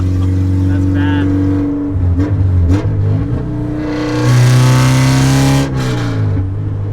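A Dodge Hellcat revs and passes close by. A deep engine rumble rises into a loud rev burst before it eases off, with voices chatting nearby.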